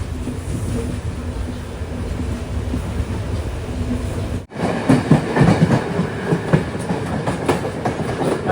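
The Yal Devi Express in Sri Lanka rolls along with a steady rumbling rail roar and rhythmic clickety-clack of wheels, heard from inside a second-class coach, briefly interrupted before the noise returns.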